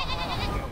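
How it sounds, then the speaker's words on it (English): Baby goats bleat in a short, loud, wavering cry up close, grazing outdoors as part of a wildfire-risk brush clearing effort in Chula Vista. "These baby goats are a crowd favorite."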